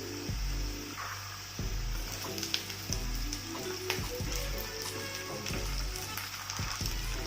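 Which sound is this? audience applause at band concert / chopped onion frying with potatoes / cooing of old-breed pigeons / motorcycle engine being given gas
chopped onion frying with potatoes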